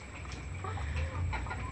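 Penned laying hens cluck softly in the background on a poultry farm, a faint scattering of brief calls over a low steady hum, with no talk.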